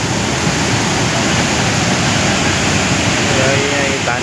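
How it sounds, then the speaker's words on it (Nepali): The swollen Rangit Khola rushes loudly after heavy rain, a steady broadband roar of floodwater that holds without letup near the bank beside flooded paddy fields. "खोला चाहिँ यत्रो बढिरहेको छ"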